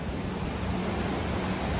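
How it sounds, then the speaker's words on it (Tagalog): Strong ocean waves seen from a cruise ship veranda in the Caribbean roar as a dense, steady wash of surf noise, loud and unbroken with no voices. "Ang lakas ng alon."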